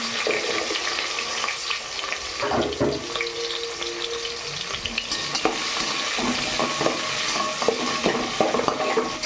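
Carrot pieces, capsicum and beans frying in a pan for street-style egg fried rice make a continuous loud sizzle, with bursts of stirring and scraping throughout.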